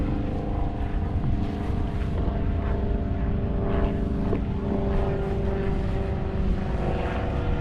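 Steady droning hum of a propeller airplane engine, loud and continuous, nearby.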